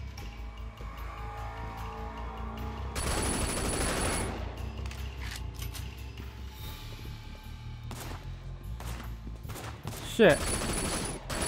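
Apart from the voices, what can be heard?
gunfire in the video game Sleeping Dogs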